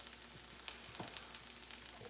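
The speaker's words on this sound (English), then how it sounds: "Onions and green pepper are sizzling up nicely." Onions and green peppers sizzle in a frying pan with a steady hiss and a few scattered pops and crackles. The sound is faint and continuous, with no voices.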